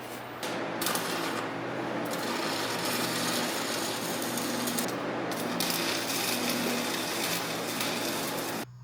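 Tack welding a bracket onto a pickup truck differential makes a continuous crackling, buzzing arc for several seconds, fairly loud and steady, with brief breaks near the start and end.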